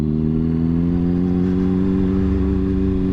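A motorcycle in first gear with a beginner at the controls holds a loud, steady, close engine drone, its rumbling harmonics rising slightly as it pulls away.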